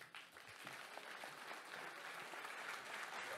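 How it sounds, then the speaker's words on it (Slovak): Audience applause filling a hall at a Slovak public debate as the host takes the stage, a dense, steady clapping that continues throughout without pause. "Tlieskajte, mám to rád."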